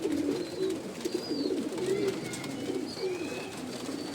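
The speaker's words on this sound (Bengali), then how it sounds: "দেওয়া কবুতর রেস্টে আছে রেস্টে বসে রয়েছে" Pigeons resting in their loft coo repeatedly in soft, rolling phrases, close by and steady over a low background hum, with a few higher chirps mixed in.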